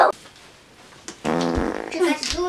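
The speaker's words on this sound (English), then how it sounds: "you can't just fart like that, man" A short, loud fart bursts out right at the start, followed by a quieter pause and then boys talking and exclaiming close by.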